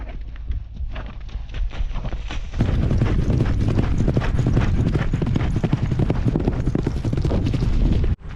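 A mounted shooting horse trots on a trail, its hooves sounding a quick, steady clip-clop up close that starts quietly and then turns loud and continuous until it stops at the end.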